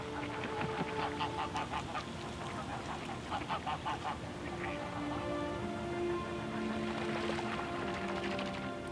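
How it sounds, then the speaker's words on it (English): Hundreds of mixed waterfowl crowd a patch of open water on a frozen lake in Germany, with geese honking over and over in a dense, overlapping chorus that carries on without a break. "that was swarming with hundreds of waterfowl from different species"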